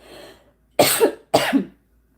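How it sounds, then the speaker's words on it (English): Two sharp, close coughs in quick succession, each a short rough burst, after a faint bit of breath. "told you I had that cough"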